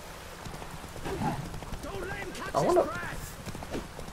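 Horse hooves clip-clop in Witcher 3 during a combat scene, a fairly steady trotting patter mixed with game effects while a player talks over it.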